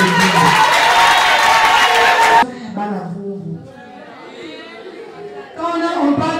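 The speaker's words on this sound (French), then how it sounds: "J'aimerais que tous les enfants de Yolo applaudissent pour nos amis qui viennent de Yolo." A crowd of children at a school event in Yolo applauds and chatters loudly, then the clapping cuts off abruptly and a voice speaks over quieter murmur before the noise rises again.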